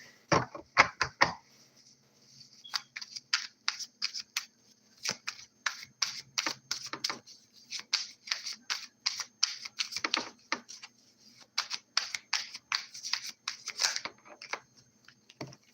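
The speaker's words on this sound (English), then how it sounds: "Let me shuffle." Tarot cards shuffled by hand up close, a long run of crisp, rapid riffling and snapping bursts with brief pauses between them, no talking.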